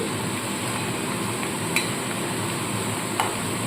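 Shredded potatoes frying in plenty of oil on very low heat for crispy jhuri aloo bhaja, a constant even sizzle with two faint clicks of the stirring spatula, no voices.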